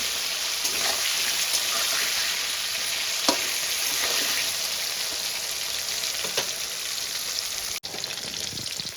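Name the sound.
potatoes frying in hot mustard oil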